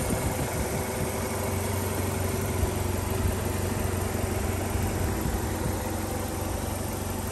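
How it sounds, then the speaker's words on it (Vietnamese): The engine of a 2007 Chevrolet Captiva idles smoothly and steadily at close range, a low even hum with no revving and no voices. "Rất êm nha, máy nổ rất là êm."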